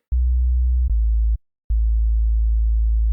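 A pure, steady sine wave tone sounds in three segments, broken by short clicks and a brief silence near the middle.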